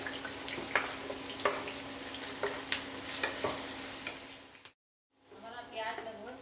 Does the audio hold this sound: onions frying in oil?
yes